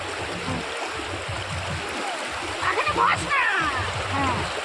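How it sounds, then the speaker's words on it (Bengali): Water splashes and churns in a stream during a family picnic, with louder splashing bursts midway over a steady running-water wash. People talk throughout. "একটু জল দিয়ে খেলাখেলি করছি"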